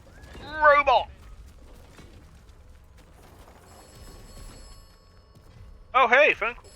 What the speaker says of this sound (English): Oh hey, phone call.